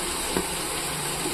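Green chillies frying in a pan of oil for chicken biryani, a soft steady sizzle with a couple of faint stirring clinks, close and fairly quiet, no talking.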